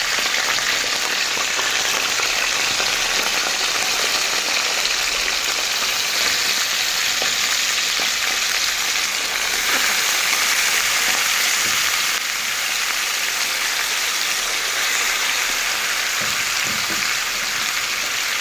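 Chicken livers frying on a hot metal tray, a dense steady sizzle with scattered crackles throughout, close and loud with no talking.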